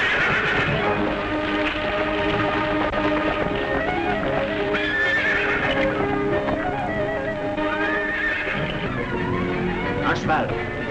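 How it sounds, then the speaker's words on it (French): A horse neighing and clip-clopping in an old film, heard amid dense soundtrack music and voices talking throughout. "Un cheval"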